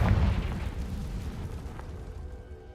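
A Confringo blasting spell explodes in Hogwarts Legacy, one loud close boom at the start that fades into a long, rumbling decay.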